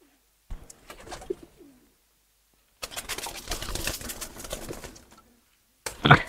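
Giribaj pigeons coo in short bursts close by, with a longer stretch of rustling, fluttering activity in the middle and a sharp burst at the end.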